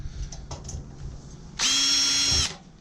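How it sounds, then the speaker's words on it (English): A power screwdriver with a Torx bit removing Torx screws from aluminium whines in one close, steady burst lasting almost a second, after a few faint handling knocks. "I prefer to just get a bit onto my screwdriver with a Torx bit on it."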